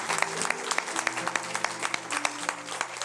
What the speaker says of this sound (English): And let's give our graduates another clap.